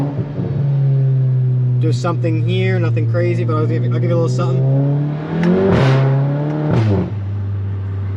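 A Volkswagen MK7 GTI with a newly fitted downpipe idles with a deep drone, then blips through several sharp revs that rise and fall, loud and close, while someone talks over it.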